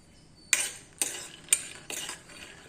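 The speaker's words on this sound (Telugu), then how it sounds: "ప్యాన్ పెట్టుకొని ఆ ప్యాన్లో పల్లీలు వేసుకొని పల్లీలు బాగా ఫ్రై చేసుకొని" Peanuts are fried and stirred in a pan, with four or five sharp scraping clinks of a utensil about every half second over a faint background hiss.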